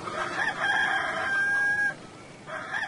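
A rooster in the video game Haunted crows one loud, drawn-out cock-a-doodle-doo, followed after a short pause by the start of another call.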